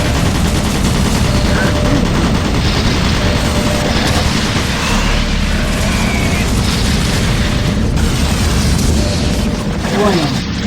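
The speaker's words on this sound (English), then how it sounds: "Warning, automated turret guns online." Automated turret guns in Doom 3 fire in dense, continuous bursts of rapid gunfire with heavy booms, loud and close, running unbroken throughout amid game noise and repeated voice announcements.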